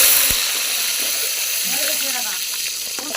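Mustard seeds and fenugreek fry in hot oil with a steady close hiss and sizzle, some faint crackling and a voice speaking over it.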